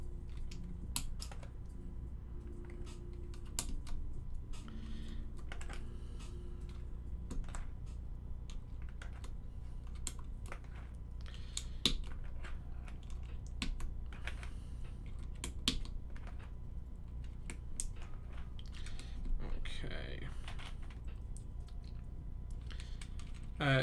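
Keycaps of a prototype set are pressed down onto a mechanical keyboard in a steady run of sharp clacks and snaps, sometimes in quick bursts, sometimes spaced out, close up and with no talking.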